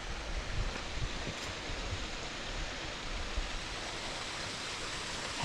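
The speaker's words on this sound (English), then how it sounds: "Found a waterfall, sort of." A small waterfall beside a walking path on Grange Fell in the Lake District gives off a soft, continuous rushing hiss of falling water, steady and fairly quiet.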